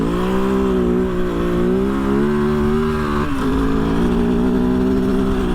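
A 2023 Kove FSE 450R Rally motorcycle engine drones loudly and steadily close by while riding through sand, its pitch shifting down briefly after a drop from fourth to third gear.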